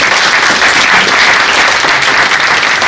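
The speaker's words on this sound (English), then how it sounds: "Big round of applause" Audience applause after a talk by Howard Love, loud sustained clapping from a room full of people, dense and even for its whole length.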